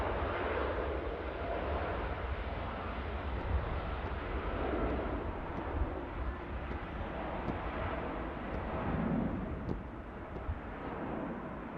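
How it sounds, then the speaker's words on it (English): A Gulf Air airliner bound for Bahrain roars steadily through a long takeoff roll at Manchester Airport, a broad, continuous jet rumble heard from a distance with gentle swells in loudness and some wind noise. "Another traditional long rollout from the Gulf Air this time, heading back to Bahrain"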